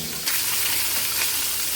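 Fish sizzling in hot oil in a pan for a Bengali fish curry, a steady bright frying hiss that jumps louder after a moment, as if pieces are turned or disturbed, with no talking.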